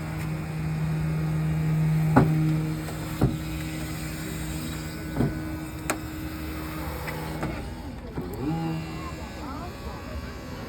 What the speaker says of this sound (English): we'll pry the door out across its pin in the back